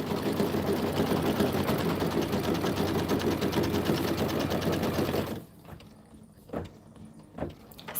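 A sewing machine runs a steady, fast perimeter tack-down stitch and placement line for an accent fabric panel on a table-top display piece, a dense continuous whir that stops abruptly, followed by a few faint clicks.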